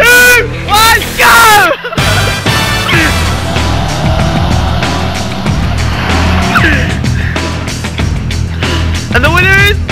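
Cars drag racing from a standing start at midnight in a freshly resurfaced car park, with loud revving engines, squealing tyres and skids, and people talking and shouting over the noise.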